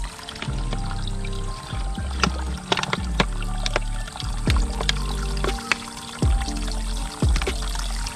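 Water runs out of tree roots on a forest trail during monsoon rain, with close trickling and pouring interrupted by irregular bumps and knocks, fairly loud with no voices.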